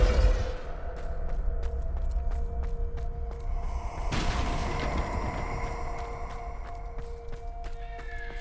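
In the Hogwarts Legacy video game, a Bombarda blasting spell sets off an explosion, a sudden loud burst midway through over a dense, continuous rumble of game effects and ambience.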